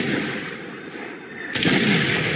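Mortar fire in the PC video game Medal of Honor, a rumbling blast of artillery followed by a sharp, louder explosion about halfway through, with dense battlefield noise and no talking.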